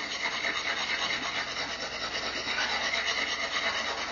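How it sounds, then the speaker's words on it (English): Wood being filed by hand with a file while shaping a knife part using minimal tools: a steady, continuous rasping scrape close by, with even strokes running throughout and no talking. "We'll continue filing away a little at a time till we get it to the right size."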